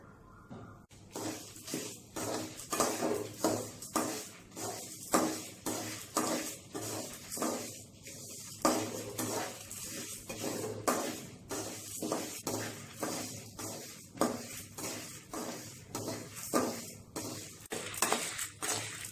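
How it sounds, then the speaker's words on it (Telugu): Dried red chillies, mustard seeds and garlic are stirred in a pan, a spoon scraping and clinking against the metal in a quick, irregular rhythm of sharp taps and rattles over a faint sizzle, fairly close. "వీటన్నిటిని మాడకుండా కలుపుతూ కమ్మని వాసన వచ్చే వరకు వేయించుకోవాలి"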